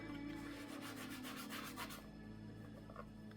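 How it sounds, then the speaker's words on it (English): A cloth rubs Proofhide into a Brooks B17 leather saddle in a steady circular buffing motion. The scrubbing is soft and continuous, grows rougher in the first half and then eases off. "So just keep buffing away. Circular motions apparently work the best."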